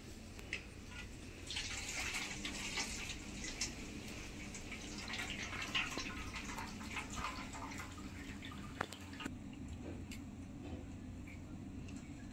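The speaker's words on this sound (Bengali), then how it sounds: "এইভাবে ছাঁকুনি দিয়ে জল ঝরিয়ে নেব।" Hot water drains steadily from boiled fish roe through a kitchen strainer, a continuous close hiss and splash of running liquid over twelve seconds with faint kitchen sounds beneath.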